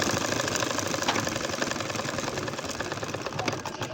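Steady mechanical whirring of a household sewing machine stitching a two-layer nakshi kantha quilt with doubled thread, running continuously and fairly loud at a slow, even pace with no talking.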